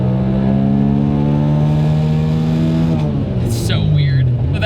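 Turbocharged engine of a Suzuki Cappuccino revving hard toward 11,000 RPM, a loud sustained rising drone that drops off near the end, heard close up.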